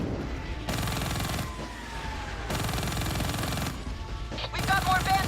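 Gunfire in the video game Call of Duty: Black Ops 3, bursts of shots coming in repeated loud blocks amid a busy battle soundscape, with no clear talk in between.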